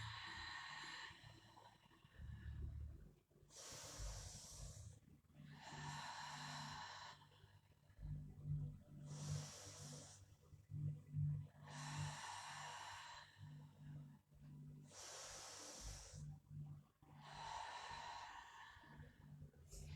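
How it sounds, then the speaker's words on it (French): Slow, deep breathing during a Pilates exercise, long inhales and exhales alternating in a steady rhythm of about six breaths, close and soft over a low background hum. "J'inspire et j'expire."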